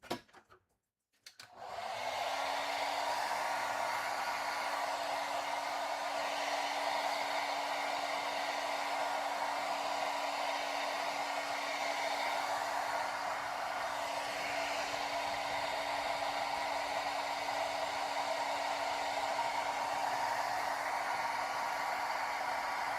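A hair dryer clicks on and blows steadily over a freshly 3D-printed Darth Talon model kit, a constant loud whooshing hum with a steady whine, running without a break after a brief start.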